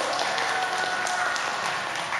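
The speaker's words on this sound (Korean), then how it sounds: "우리 모두를 위해서 환영의 박수로 모시도록 할까요?" An audience at a Christmas family camp concert claps in welcome, a steady, moderately soft wash of applause throughout.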